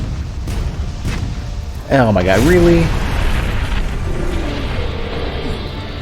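Monster Hunter: World cannons fire and explode in deep rumbling booms that roll on and rise into a heavy mechanical surge, loud and sustained, while a person speaks over them.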